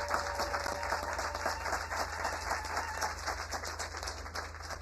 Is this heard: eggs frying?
no